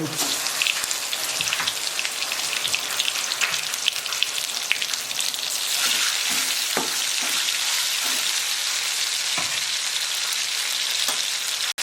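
A cumin and coriander paste frying in a pan with mustard seeds, a dense, bright, continuous sizzle crackling like rain, with occasional faint stirring knocks and no speech.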